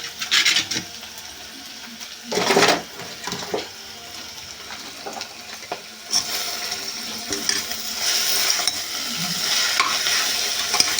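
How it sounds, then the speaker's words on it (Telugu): Onions and broad beans frying in a pan and being stirred, with a steady sizzle underneath and intermittent scraping, clinking stirs close by, no talking. "వీటితో పాటు ఫ్రై అయితే చిక్కుడికాయలు కూడా వేసుకుందాం"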